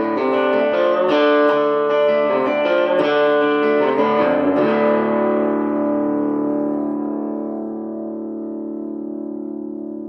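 An electric guitar in drop D tuning, played through a Boss Katana 100 Mk II amplifier, plays low, heavy chords, then lets the final chord ring out and slowly fade.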